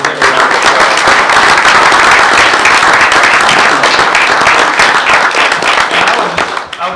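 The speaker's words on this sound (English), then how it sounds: "Let's give them a round of applause." Applause from an audience at a school board meeting honoring two teachers, a dense, loud, steady clapping roar sustained for about seven seconds before tapering slightly at the end.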